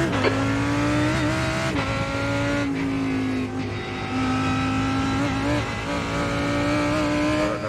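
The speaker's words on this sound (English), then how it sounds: "Take care, there's a car approaching." A GT race car engine drones steadily at high revs in the VRS GT sim racing game at Spa, with brief gear-shift dips and tyre noise, loud and continuous throughout, with no talk.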